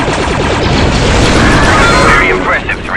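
Heavy, booming grenade blasts hit a gun emplacement in a video game, loud and rumbling for a few seconds, with a voice speaking over the explosions.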